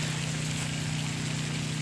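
A small water pump in an Arduino garden-bed watering system runs steadily, a close, constant electric hum with a watery hiss over it, unchanged for the brief moment.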